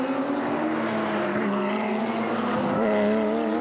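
An NGT Porsche race car at Spa Francorchamps roars past at speed, its engine a loud sustained drone with shifting harmonic tones that rise slightly as it closes in.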